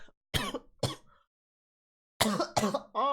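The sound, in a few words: cough and throat clearing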